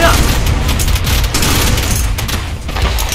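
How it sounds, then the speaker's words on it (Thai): Dense, rapid gunfire in the survival game ARK, a loud continuous rattle of shots blending into a roaring wash of noise, close and dominant throughout. "ไอ้พวกนี้มันยิงปืนรัวเลยนี่นะ"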